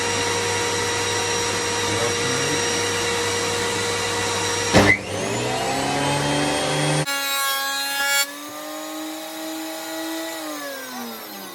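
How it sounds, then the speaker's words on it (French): A workshop vacuum cleaner drones loudly and steadily with a strong whine, then a clunk shifts its pitch and it winds down to a quieter, falling hum. "On va commencer par l'aspirateur"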